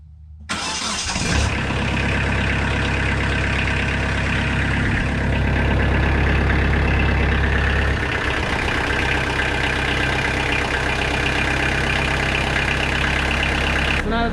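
A Kubota tractor engine cranks and catches after a brief silence, then settles into a steady, loud, close idle with a constant low rumble for the rest of the clip.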